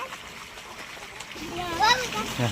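Water gushes and splashes from a motor pump outlet near a temple in a steady rushing stream. A voice and other talk come in over it partway through.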